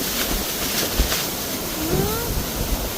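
Strong wind gusts buffet the microphone on a beach in Calaguas, Philippines, in a continuous rushing roar, mixed with surf noise and a faint distant voice.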